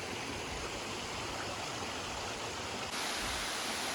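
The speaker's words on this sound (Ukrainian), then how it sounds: "Оце вже водоспад." A mountain waterfall on a hike to Polonyna Zalim roars in a steady, broad rush of icy falling water, constant and enveloping, growing slightly louder toward the end, with no voices.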